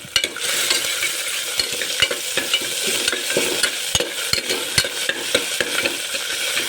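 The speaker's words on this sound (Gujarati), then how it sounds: "હવે આપણે તેલમાં એને સાતડી લેશું ગોલ્ડન બ્રાઉન સુધી" Ginger, garlic and chili paste sautés in hot oil, a constant close sizzle punctuated by frequent rhythmic knocks and scrapes of a spoon stirring the pan, with no voices.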